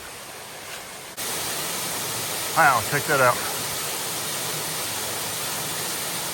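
Upper Avery Creek Falls in Pisgah National Forest, many small streams of water spilling over mossy rocks, gives a steady, loud broadband rush throughout, with a person speaking briefly over it.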